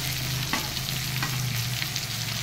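Spice pastes of chili, ginger and pepper frying in oil for a Bengali fish curry with cauliflower, a steady close sizzle with occasional stirring scrapes and soft ticks, no voices.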